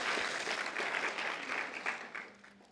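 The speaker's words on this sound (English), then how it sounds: "please just give a round of applause for Najib and all the team at the Free Speech Center" A fairly quiet burst of audience applause at a Free Speech Centre event, continuous and even across its short length, tapering off at the close.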